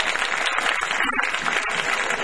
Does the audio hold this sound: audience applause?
yes